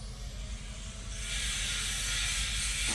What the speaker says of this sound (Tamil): கீழே ஒரே சவுண்டாக இருக்குது, வெல்டிங் வச்சிட்ருக்காங்க.